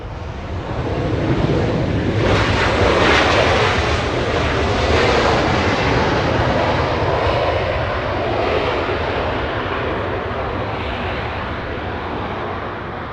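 A jet airliner lands on runway 24 right at Los Angeles International Airport, its engines a loud, sustained roar that swells and then holds steady, with wind buffeting the microphone throughout.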